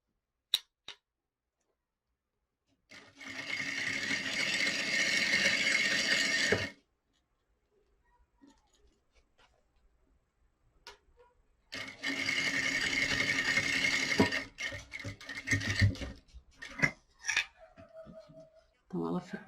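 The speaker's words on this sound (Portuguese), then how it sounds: "venho fazendo um pesponto em toda a extensão da alça" Sewing machine topstitching along the full length of a bag strap, two long loud bursts of rapid mechanical stitching separated by a quiet pause with small handling clicks and rustles.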